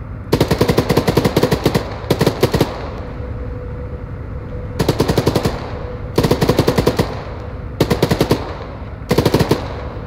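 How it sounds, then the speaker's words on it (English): Bursts of automatic machine gun fire from the Arma 3 combat video game, five rapid rattling volleys separated by short pauses, loud and close with no talking. "You can take out infantry with MG fire as you see fit."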